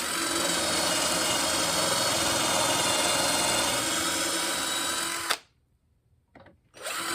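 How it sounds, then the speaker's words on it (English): A power drill bores holes for drawer handles through a jig, whining loudly and steadily for about five seconds before cutting off, then a short burst follows. "you're ready to drill the holes"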